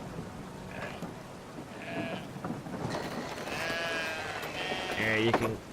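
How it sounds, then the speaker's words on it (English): Sheep bleat in the video game Brothers: A Tale of Two Sons, several wavering calls spread across the clip over a soft rain-like wash, with someone speaking at moments. "Come here, sheep."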